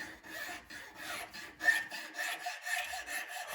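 Short repeated rasping strokes of a fine file rub back and forth across a workpiece, close and quiet, in an even rhythm of about four strokes a second, with no talking.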